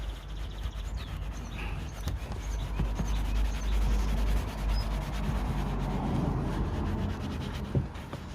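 A cloth rubs cleaner over the exhaust tip of a BMW 525i M Sport E60: a continuous close scrubbing and scuffing texture lasting several seconds, with a low rumble beneath and no speech.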